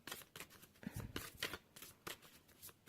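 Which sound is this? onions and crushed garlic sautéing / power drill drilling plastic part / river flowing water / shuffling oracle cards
shuffling oracle cards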